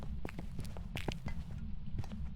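Irregular, muffled ghost footsteps in the video game Phasmophobia thud over a constant low background hum, several steps in quick uneven succession, fairly close and unaccompanied by speech.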